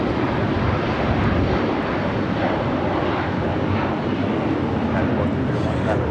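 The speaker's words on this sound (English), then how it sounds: "This is United Airlines 1431 taking off to Honolulu on the 757-300." United Airlines Boeing 757-300 departing LAX, its jet engines producing a continuous, loud, dense roar at close range throughout, with no speech on top.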